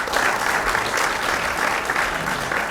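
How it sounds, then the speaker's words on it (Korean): Congregation applause at a church dedication and founding service, a dense, even round of many hands clapping, sustained and moderately loud with no talk over it. "큰 박수로 맞아주시기 바랍니다."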